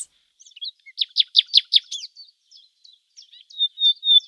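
A nightingale sings as a storytelling sound effect in a fairytale: a quick run of about five bright chirps, then scattered warbles and a clear whistled note that ends the phrase, close and alone.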